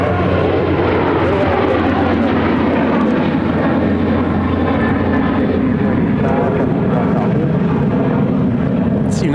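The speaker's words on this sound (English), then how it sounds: "United Flight 2398 headed to Washington Dulles on a 737-900ER" A United Boeing 737-900ER jet airliner at Phoenix airport gives a loud, steady broadband roar that holds for the whole stretch, with muffled voices faintly underneath.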